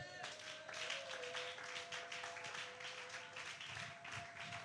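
A church congregation applauds and acclaims Jesus together, a faint but continuous, dense patter of clapping that holds steady throughout with a sustained tone beneath it.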